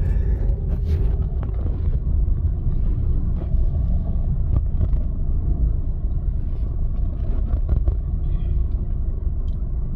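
Steady low rumble of heavy, slow-moving traffic on Ortigas Avenue, continuous and fairly loud with occasional brief clatters, no talking.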